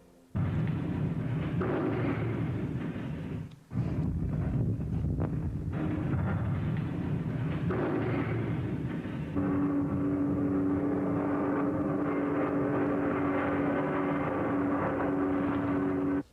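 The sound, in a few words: recorded bombs and aircraft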